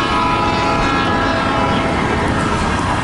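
Illinois Central train rolling past close by, its horn sounding steadily over a dense, constant rumble of wheels and cars.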